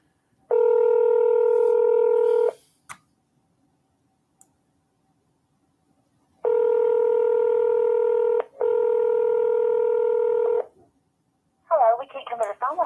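Telephone keypad dialing tones for an outgoing call to a seller, three long bursts of steady touch-tone beeps separated by pauses and a few clicks, ending in the brief start of a voice.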